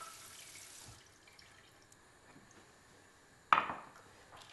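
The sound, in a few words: cold water poured over gelatin leaves to soak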